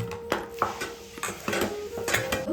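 Metal clinks and taps of a lid being handled and set onto a cooking pot while preparing food, a handful of light, sharp knocks spread over a couple of seconds, close and fairly quiet.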